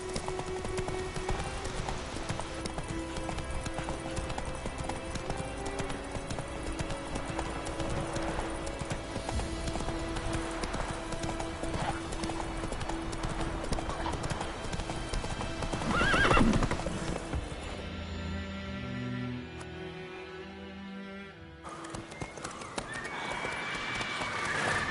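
Horse hooves gallop in The Witcher 3, a steady rapid clip-clop with an occasional whinny, running continuously over game music and ambience before a brief break near the end.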